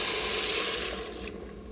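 Chicken broth pours into a pot of chicken for Greek chicken and rice with a steady, close splashing of liquid that gradually softens.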